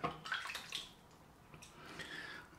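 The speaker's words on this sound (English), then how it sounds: "so I'm going to add some water now." Water from a tap splashes and trickles into a bowl of Arko shaving cream in a few short bursts, close and fairly quiet, with no talking.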